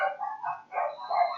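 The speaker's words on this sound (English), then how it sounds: "Okay, so Adrian, sorry about the dogs from our neighbors." Neighbors' dogs bark nearby in a short run of about three yelping barks, clear and fairly loud, with no one talking over them.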